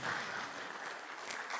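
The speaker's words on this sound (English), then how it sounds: "A round of applause to our panelists." A room of listeners at a road safety knowledge-sharing forum in Kenya claps for the panelists in a brief, steady, fairly soft burst of applause.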